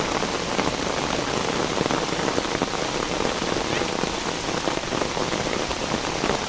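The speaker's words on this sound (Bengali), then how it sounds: "দেখেন কত বৃষ্টি কত পানি জমছে দেখেন কত পানি জমছে বৃষ্টিতে" Heavy rain pours steadily in a dense, continuous hiss on the ground and pooling water, loud and close throughout with no pauses, during the first rain of the Bhadra month after intense heat and sun.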